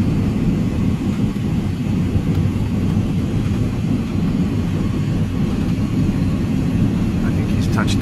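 Steady, loud low-frequency roar of an airliner cabin during landing approach and touchdown, a broad continuous rumble with no distinct impact standing out.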